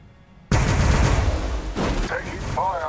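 Warhammer 40000 Battlesector battle gunfire bursts in suddenly as a dense, loud fusillade of overlapping shots, sustained for a few seconds with a voice speaking over the shooting.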